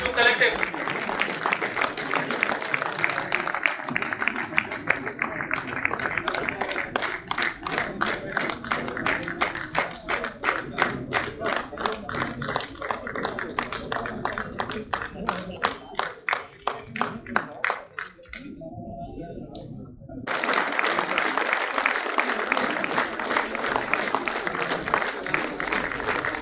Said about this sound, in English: Please give a big round of applause for SMS 2 Collective.